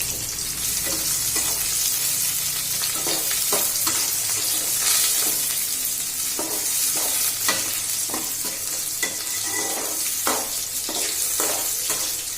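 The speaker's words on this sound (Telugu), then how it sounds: "నూనెలో ఉల్లిపాయలు అన్నీ బాగా మెత్తపడాలి." Onions sizzling in hot oil in a home kitchen while being prepared for leftover roti upma, a loud continuous crackling fry with occasional stirring scrapes throughout.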